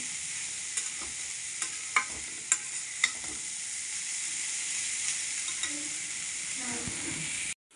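Shredded cabbage and moong dal fry in a hot pan with a continuous bright sizzle, broken by several sharp scrapes and clicks of a stirring spoon, close and loud until the sound cuts off abruptly at the end.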